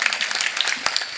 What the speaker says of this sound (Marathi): टाळी वाजवायला तुम्ही तुमच्याकरिता.